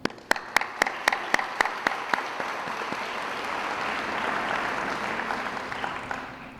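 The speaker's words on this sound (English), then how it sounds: "you should give yourselves a round of applause" A crowd at a public schools convocation breaks into applause, starting with a few sharp separate claps that quickly swell into a dense sustained ovation, then tails off.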